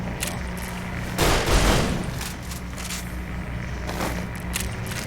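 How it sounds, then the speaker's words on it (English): A heavy pump-action shotgun blasts during a battle at Hoover Dam in the game Fallout: New Vegas, one booming shot amid a steady din of other gunfire and combat noise. "Heavy pump action shot."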